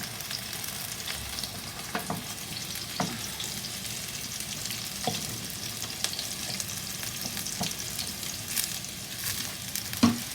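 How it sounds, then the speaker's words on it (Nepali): Green chilies frying with lightly browned onions in a pan, a continuous close sizzle with scattered soft pops and crackles throughout and occasional faint stirring taps, no talking. "यो प्याज चाहिँ हल्का ब्राउन कलरको भएपछि चाहिँ यसमा म यो खुर्सानी हाल्छु।"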